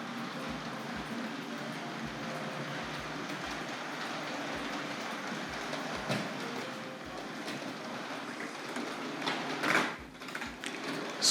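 A Hornby R.761 Kneller Hall model locomotive pulling Pullman coaches along a model railway track, a steady close rolling rumble with regular rhythmic clicks from rail joints and points, swelling briefly near the end.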